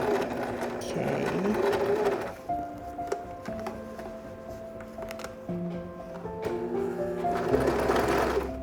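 A sewing machine stitches through thick denim jeans being turned into a mini skirt, running in bursts with slow hand-cranked passes over the bulky seams, its mechanical whir close and steady.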